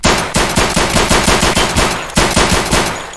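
Rapid automatic gunfire in the video game Escape from Tarkov, a loud, close burst of about a dozen evenly spaced shots, a brief pause, then a few more rounds.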